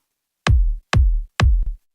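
Three punchy Vengeance kick drum sample hits in a row, each with a sharp click and a deep booming tail, evenly spaced and isolated against silence.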